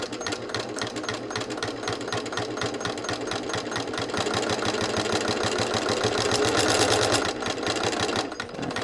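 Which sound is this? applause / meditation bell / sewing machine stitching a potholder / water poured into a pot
sewing machine stitching a potholder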